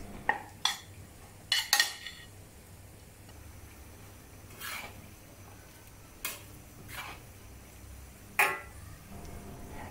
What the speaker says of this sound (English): Now return these ingredients to the wok that contains the fried shallot